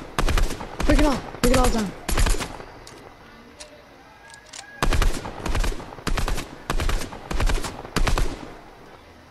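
Minigun fire in Fortnite comes in about nine loud, short bursts of rapid shots with quieter gaps between them, close and harsh, while a voice speaks briefly between the early bursts.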